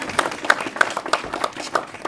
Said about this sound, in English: kept the applause going